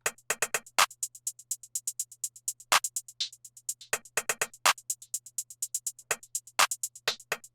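Sweeping phaser-style synth swells layered over a looping trap beat, with rapid hi-hat-like rhythmic hits recurring throughout, loud and close with no talking.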